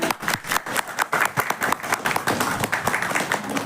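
An audience at a Gujarati monologue competition breaks into lively applause, a dense patter of many hands clapping close by and continuing throughout without pause.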